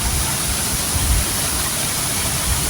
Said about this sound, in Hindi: ओह माय गॉड, अब मेरे और आबशार के दरमियान में कोई दरख्त नहीं है।